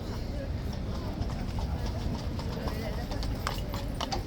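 Horse hooves clip-clop steadily alongside a police officer's horse, set against a busy outdoor crowd and general chatter.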